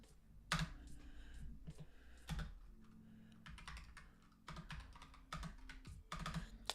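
Fast, uneven bursts of clicking keystrokes on a computer keyboard, fairly quiet and close, with brief pauses between flurries.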